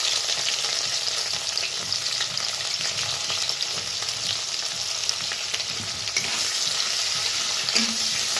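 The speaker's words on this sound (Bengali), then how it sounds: "পেঁয়াজগুলো একটু লাল লাল করে ভেজে নেব।" Chopped onions frying in hot oil with dried red chilli and black cumin, a continuous close crackling sizzle with occasional stirring clicks and no talking.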